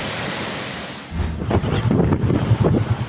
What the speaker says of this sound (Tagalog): dahil sa lakas ng hampas ng alon sa Denrica, Garchitorena, Camarines Sur